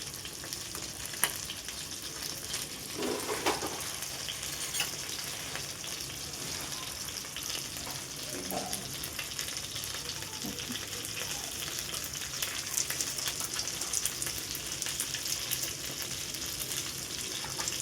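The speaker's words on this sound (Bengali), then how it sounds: "তেলটা গরম হয়ে গেছে। এইবারে এর মধ্যে কিন্তু দিয়ে দেবো রাঁধুনি আর তেজপাতা।" Radhuni seeds and bay leaves sizzle in hot oil for a Bengali shukto with fish head and vegetables, a steady, moderate frying hiss running throughout with a few brief clinks from a stirring spoon, no voices.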